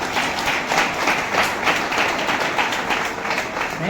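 Audience clapping steadily in a hall, dense close applause sustained throughout with a faint voice underneath.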